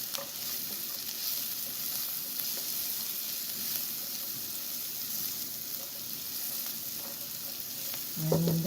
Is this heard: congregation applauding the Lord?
no